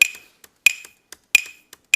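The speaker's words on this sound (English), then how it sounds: "There's the sound of the glass" Glass clinks crisply in a kitchen, four bright ringing taps spaced about two-thirds of a second apart, each followed by small faint ticks, close and clear against silence.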